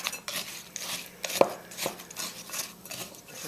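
Melted butter, brown sugar and pecans being mixed in a bowl for a sweet potato casserole topping, heard as uneven scraping and clinking of a utensil against the bowl, with one sharper knock partway through and no voices.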